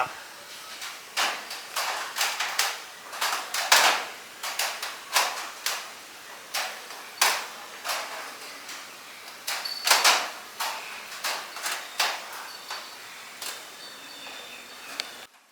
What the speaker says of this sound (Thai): แต่เราได้ยินเสียงโป๊ะแปะโป๊ะแปะโป๊ะแปะ มันเกิดจากหลังคาลั่นนะครับ